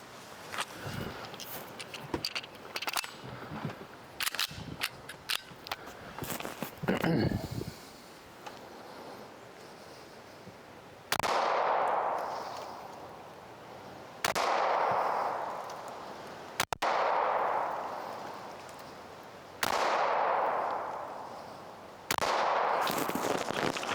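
Handgun shots fired at close-range targets from 5 to 7 yards on a range, several loud sharp reports spaced a few seconds apart, each ringing out with a decaying tail, after a stretch of handling clatter.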